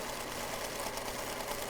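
A sewing machine stitches a quilt panel in a steady, continuous mechanical whir, close and even throughout the short stretch, with no voices.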